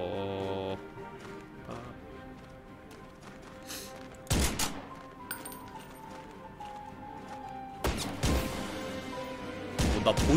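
Gunfire in a Korean shooting video game with manual reloading: a few loud, sharp broadband bursts spaced several seconds apart, mixed with metallic clinks and game effects over a busy background.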